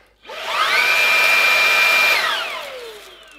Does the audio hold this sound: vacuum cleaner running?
yes